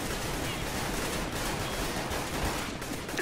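A decoy grenade in CS:GO mimicking gunfire, rapid crackling shots packed into a steady, dense barrage that fills the whole moment with no pauses, with faint background voice chatter.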